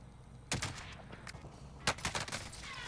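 Two sharp, loud sniper shots in the video game Warzone, about a second and a half apart, each with a brief ringing tail over quiet game ambience, with no talk.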